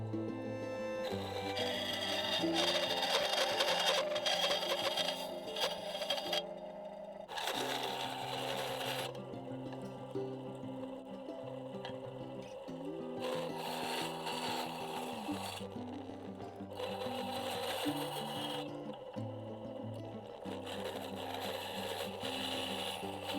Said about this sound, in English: I have to go and do a few tweaks on the bandsaw.